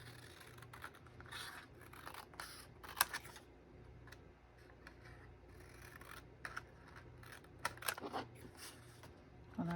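Scissors snip paper for a collage in a quiet room, giving faint, sparse cuts and light paper rustles with no voices.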